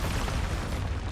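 An Expulso blasting spell from Hogwarts Legacy sounds as a brief, loud, dense roaring burst that holds steady for about a second, with no speech over it.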